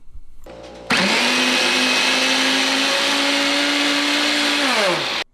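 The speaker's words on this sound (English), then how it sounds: "You just cut them into big chunks and throw them in your food processor" A food processor chops big vegetable chunks for beef and mushroom soup, a loud close motor whine that kicks in abruptly, runs steadily for about four seconds, then winds down and stops.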